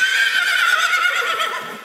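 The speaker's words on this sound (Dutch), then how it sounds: "De paarden gespot daar." A horse neighs loudly and close at an equestrian clinic, one long shrill whinny that trails off toward the end, heard alone without talk.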